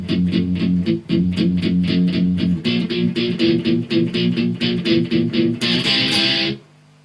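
Slow electric guitar rendition of an intro: steady picked notes and chords moving upward, clear and moderately loud, ending on a brighter strummed chord that cuts off.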